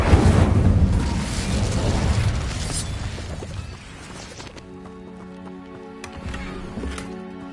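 An Incendio fire spell cast in Hogwarts Legacy, a loud roaring whoosh of flame that gradually fades out, leaving quieter tonal game sounds and a few soft clicks.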